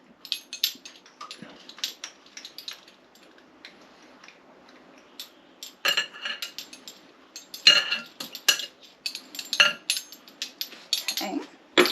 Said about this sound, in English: I'm gonna stir that in my mixture.